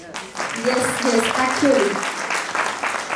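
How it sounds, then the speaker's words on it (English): Audience applause at a live event, steady clapping spread across the hall with a voice speaking briefly over it. "Please welcome him with a big round of applause."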